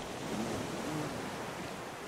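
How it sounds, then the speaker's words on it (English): Ocean waves wash steadily in the survival game Raft, a constant broadband surf and wind-like rush with no talk over it. "Here are the waves"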